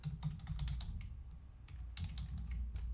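Rapid, steady typing on a computer keyboard while entering a formula in an Excel spreadsheet, the key clicks close and continuous for the whole stretch with no talking.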